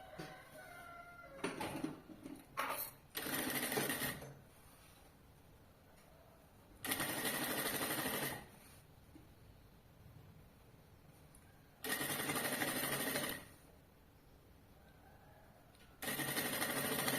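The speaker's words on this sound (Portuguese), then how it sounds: "eu vou fazer retrocesso e costurar aqui" A sewing machine stitches a convertible bag-backpack in bursts, with three long runs of rapid whirring separated by pauses, plus a short burst of backstitching at the start among handling clicks; close and fairly quiet.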